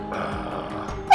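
A man imitates street dogs with his voice, giving one sustained growling, roar-like vocal sound at close range that swells into a louder burst at the end.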